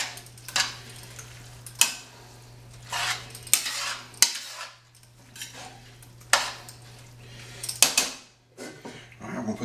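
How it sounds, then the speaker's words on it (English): A spoon stirs cooked kielbasa and its juices into haluski in a pot, giving sharp metallic clanks and scrapes at irregular intervals over a low steady hum. "It goes in, all the juices too. Every bit of it. And give it a good mix."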